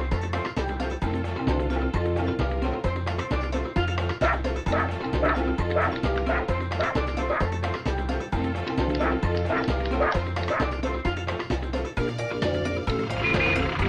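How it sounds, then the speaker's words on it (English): Repeated high yipping barks from a puppy in the video game 102 Dalmatians, over a steady, pulsing game music track, with brief whimpers mixed in. "Just like a little puppy barking"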